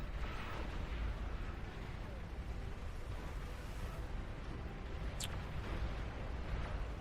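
Salvo rocket bots fire in a busy strategy-game battle, a dense, continuous rumble of launches and blasts holding steady across the clip, with one sharp whistling streak near the end.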